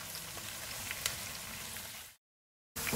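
Onions, garlic and ginger sizzle and crackle steadily in a hot pan, a soft continuous frying hiss that cuts out briefly before resuming.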